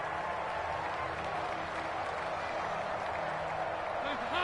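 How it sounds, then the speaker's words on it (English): Crowd noise from a PS4 football video game swells steadily ahead of a big third down, a broad continuous roar with clapping and a faint commentary voice underneath. "the crowd getting into it as we come up on a big 3rd down"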